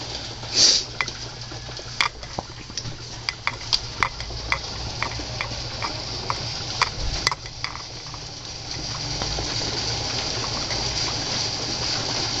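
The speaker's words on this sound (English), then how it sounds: "No, you can hear it raining, yeah." Rain falls outdoors near a hospital roof, a soft steady patter with scattered sharp drips and ticks, and a brief louder splash near the start, with no talk.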